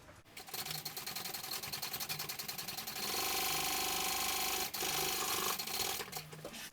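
A sewing machine stitches two rows of seams through thick vinyl, running in a steady, loud mechanical whir with rapid needle pulses that sustain for several seconds with a brief pause partway through.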